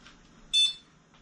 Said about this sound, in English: The speaker just beeped.